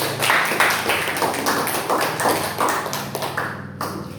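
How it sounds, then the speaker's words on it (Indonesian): Classroom applause in an Indonesian school lesson: a steady, dense patter of many hands clapping together for several seconds at even loudness, thinning slightly at the very end, with no talk over it. "Beri aplaus dulu untuk semua."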